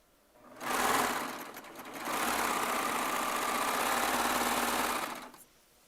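A Baby Lock Triumph serger stitching along a fabric strip, a close, steady mechanical whir that starts with a short burst, pauses briefly, then runs continuously for several seconds before stopping.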